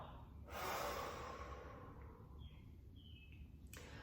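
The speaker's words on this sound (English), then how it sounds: "Breathing in, blow it out." A single forceful breath, with one strong, breathy exhale that lasts about a second before it fades. Faint bird calls follow in a quiet room.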